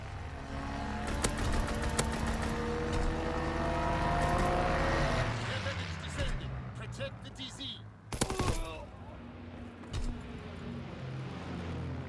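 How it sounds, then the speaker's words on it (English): A Call of Duty WWII match on the Carentan map carries a rising and falling drone of fighter aircraft, likely engines sweeping past, under rapid gunfire bursts and a game voice announcement, with dense layered battle noise throughout. "Fighter aircraft approaching target"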